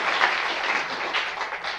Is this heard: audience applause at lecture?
yes